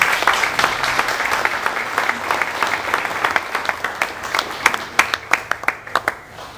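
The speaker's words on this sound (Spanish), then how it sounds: "Pido a todos un aplauso." Audience applause at a Mexican civic ceremony in Sinaloa honouring the promoter of a memorial palace: a dense, steady wash of clapping that thins toward the end into scattered, sharper individual claps.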